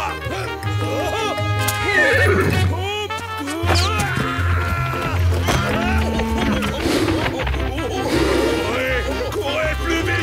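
Horses whinny and neigh in a French Zorro cartoon, with high, wavering animal cries layered over a dense, loud orchestral music bed and shouted dialogue throughout.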